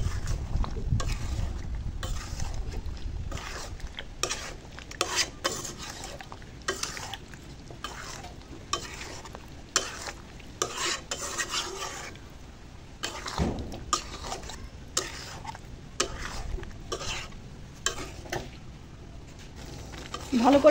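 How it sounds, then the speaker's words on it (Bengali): A spoon scrapes and stirs sour yogurt into chicken in a pot for tehari, producing repeated, uneven clacks and scraping strokes over a faint simmer, with a brief voice heard early on. "এখন ভালো করে নেড়ে চেড়ে দেব।"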